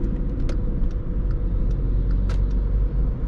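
A VW Polo 1.6 TDI diesel hums low and steady at low revs while driving in city traffic, a dense rumbling drone with faint clicks and ticks from inside the car.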